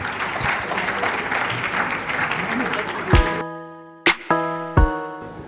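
An audience applauds both teams at the end of the first half of a high school semi-final match, a dense clapping wash that gives way to loud announcer microphone thumps and ringing tones.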